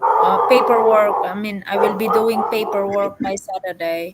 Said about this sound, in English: That's my dog. Sorry about my dog.